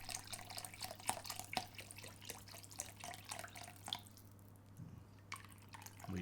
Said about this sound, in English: So we've got our vegetable stock here.